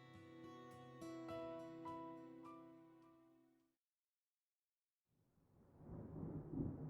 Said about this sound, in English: And that sound. Thunder snow is coming. So ominous sounding.